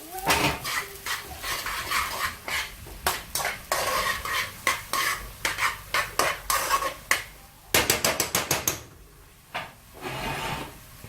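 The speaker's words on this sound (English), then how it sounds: "And I'm gonna transfer these now onto the pot. The brown salami." Browned salami being scraped and moved into a pot for a vegan spaghetti dish, heard as repeated clattering utensil strokes against cookware over a light sizzle, close, with a quick burst of taps near the end.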